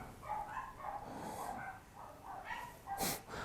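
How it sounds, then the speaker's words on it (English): Several dogs barking loudly indoors, with overlapping yaps and huffing barks running throughout and a sharp burst near the end, close by and fairly loud. "my dogs are so loud."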